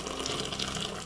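Water is poured into a multicooker bowl, 1.5 litres in all, with the bowl still unwashed after frying onions. It gives a steady continuous rush and splash that carries through the whole stretch with no talk.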